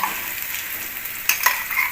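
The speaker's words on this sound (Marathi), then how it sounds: "हे वाटप तेलात फ्राय करून घ्यायचं" A ground paste of green chillies, fresh coconut and garlic fries in hot oil with a steady close sizzle, and a spoon stirs it with a couple of scraping clinks near the end.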